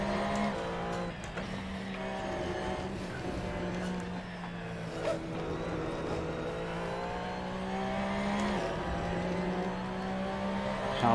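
A Porsche sim racing car engine pulls at full throttle, its steady high-pitched drone rising and dipping with gear changes and corners across the lap, loud and continuous with a brief tyre scrub now and then.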